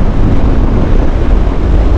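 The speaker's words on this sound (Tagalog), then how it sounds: "Ang lakas ng hangin." Strong wind buffets the microphone during a ride on a Zontes 400D 400cc scooter, a loud, continuous low roar and rumble with no other sounds coming through.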